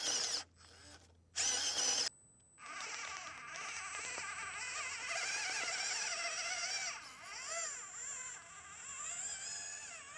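Electric winch motor on a Hobby Plus Terranaut 8x8 RC recovery truck, a steady high-pitched whine running continuously after a couple of short bursts, close and fairly loud.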